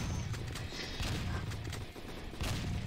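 Turret guns firing in a video game, a steady dense clatter of repeated shots and mechanical bursts running throughout, fairly close and continuous with no voices.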